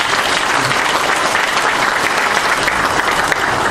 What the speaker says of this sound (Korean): 잠깐 환영의 박수 한번 부탁드리겠습니다.